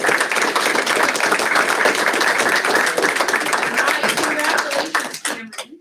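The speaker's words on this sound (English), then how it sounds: "Round of applause for." Round of applause at a school district board meeting honoring a second-grade student, a lively patter of clapping hands that carries on steadily, then thins and dies away near the end as a voice begins speaking.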